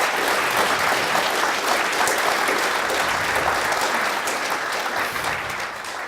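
A live audience at a talk gives sustained, even applause, a full crowd of hands clapping without pause for about six seconds and tapering slightly at the close.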